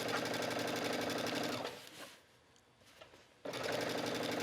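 A sewing machine stitches a skirt seam into serged fabric with a steady, rapid mechanical whir. It pauses for about a second and a half, then starts again at full speed, and nobody speaks.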